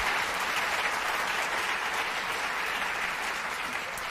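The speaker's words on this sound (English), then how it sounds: "Can we just have a round of applause?" Steady applause from a summit audience, an even wash of many hands clapping that stays loud and continuous, with no talk over it.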